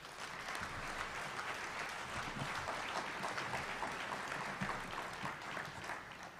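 Steady round of applause from a large audience at a fellowship orientation event, continuous dense clapping holding even for several seconds with no voices over it.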